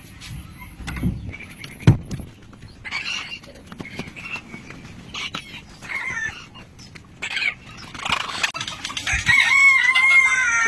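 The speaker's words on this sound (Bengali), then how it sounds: "এখন আপনাদের আমি আমার বড় মুরগিগুলোকে দেখাই" Hens cluck and a rooster crows in a busy poultry shed of adult breeder birds, calling intermittently nearby, with some scattered rattling and occasional voices in the background.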